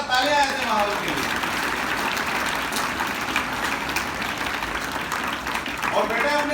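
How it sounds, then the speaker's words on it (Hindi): Loud, sustained applause from a school audience at a traffic-awareness event, a dense wash of clapping that holds steady for several seconds with voices mixed in at the start and end. "जोरदार तालियां ऐसे माहौल के लिए।"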